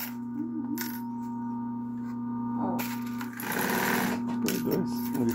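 A sewing machine stitches synthetic bag fabric, a steady mechanical whir over a constant electrical hum that grows louder and busier partway through, while people talk in Portuguese nearby.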